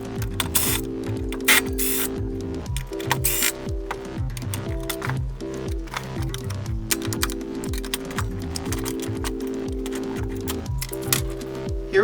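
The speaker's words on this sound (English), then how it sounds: "first I'll remove the screws and then use a flathead screwdriver to pry it out" Screws are removed and a flathead screwdriver pries out the field of a DeWalt DCS577 Flexvolt worm drive saw, producing close, busy ratcheting clicks, metallic scrapes and rattling taps in quick irregular succession.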